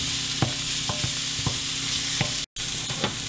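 Chopped apples cook in a pan for turkey stuffing, sizzling steadily up close while a utensil stirs them in regular soft scrapes, with no talking.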